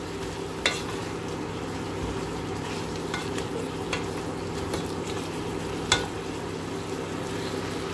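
Ginger and red onion are stirred with pork in a cooking pot, a soft steady sizzle with occasional faint scraping taps of the spoon against the pot, quiet and without talk.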